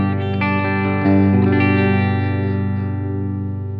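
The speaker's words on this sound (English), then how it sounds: "So with my bridge humbucker, the clean channel sounds like this." Clean-channel electric guitar through a bridge humbucker, metal-style rig, ringing chords struck a few times near the start, then sustaining and slowly decaying, loud and close with no talking.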